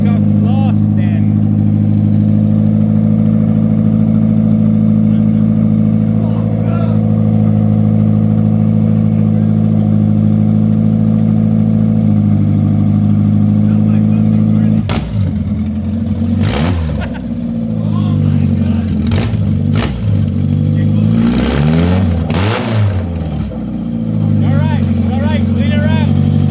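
Car engine running with no exhaust fitted, a loud raw drone held steady before a series of sharp revs blip up and fall back, with voices talking near the end.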